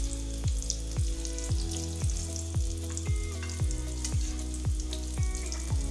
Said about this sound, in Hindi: कबाब हम साइड पे करते हैं और साथ ही हम अंडा भी साथ ही फ्राई कर लेते हैं।